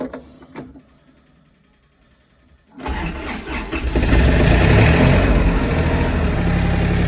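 An Iseki TA2 tractor with a hard cold-start problem cranks after a few faint knocks, then its diesel engine catches and settles into a loud, steady running roar close by.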